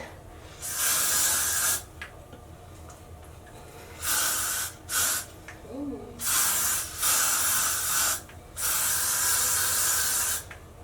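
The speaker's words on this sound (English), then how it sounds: "I'm just spraying it." An aerosol hair spray can hisses in a series of bursts, some long and some short, with brief pauses between them, close to the microphone.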